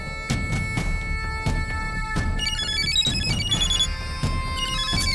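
A mobile phone ringtone plays loudly as a repeated electronic melody, with sharp percussive beats under the tune. It is close and clear, with no talking.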